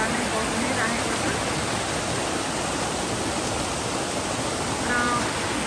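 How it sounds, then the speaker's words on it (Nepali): A mountain stream runs steadily near a hillside temple in Guwahati, a constant broad rush of flowing water close by with faint voices barely surfacing. "चारैतिर एकदमै राम्रो खोलाको हजुरहरूले साउन्ड पनि सुन्नु भयो होला अल्पल अल्पल खोला नै बग्नु नै राखेको छ"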